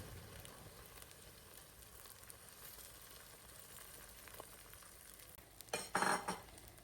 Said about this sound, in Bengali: তারপর উপরে দিয়ে দিচ্ছি ডিমটা একেবারে পাতলা করে